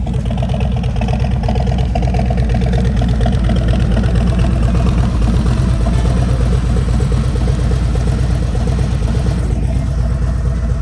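A 2023 Harley-Davidson Road Glide 3 motorcycle engine running, a loud, steady, close low rumble with an even throbbing pulse and no talk.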